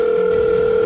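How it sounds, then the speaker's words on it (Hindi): A steady electronic telephone tone hums continuously at an even pitch, clear and close, with no voices. "बेल बज रही है"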